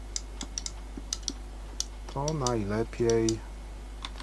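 Retro computer keyboard typing in sharp, scattered keystroke clicks at a steady moderate pace, with a voice briefly speaking partway through.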